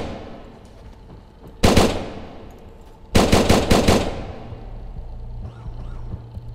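Video game gunfire in a co-op survival shooter: one loud burst of automatic fire, then a pause and a second rapid volley of several sharp shots, over a low steady background hum, with no talking.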